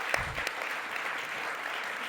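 An audience at a talk applauds as a guest joins the stage. The clapping is steady, dense and moderately distant, with one or two sharper claps at the start.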